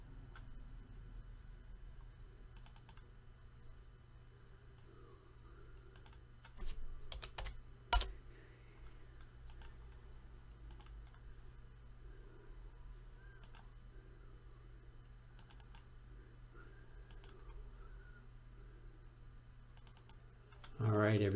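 Typing and clicking on a computer keyboard and mouse while cutting and pasting during an online football card break: scattered soft key taps and sharp clicks over a low steady hum, with a couple of louder clicks.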